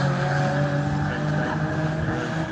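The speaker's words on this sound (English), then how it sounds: "That was the guy spun it." A race car at a Kyalami Fun Cup corner spins out, and its engine drones loudly and steadily under long tyre squeal and skidding, while voices talk faintly beneath it.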